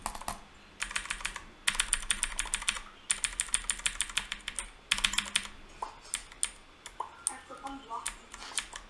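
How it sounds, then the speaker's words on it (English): Rapid typing on a new mechanical computer keyboard, close and loud, in quick bursts of clicky keystrokes separated by short pauses. "if this keyboard is way too loud, then I'm gonna change the switches to linear"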